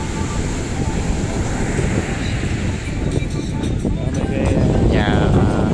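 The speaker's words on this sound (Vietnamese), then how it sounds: "giờ gió dữ, sóng dữ ha" Strong wind and pounding surf on Nha Trang beach roar continuously at close range, with wind buffeting the microphone and people talking over it throughout.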